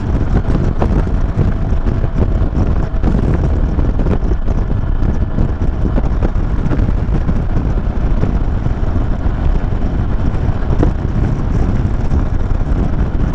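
Steady wind buffets the microphone in a continuous low roar on a windy evening in Aydın, Turkey, with no voices and nothing else standing out.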